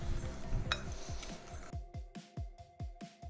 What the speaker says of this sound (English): Mix that together.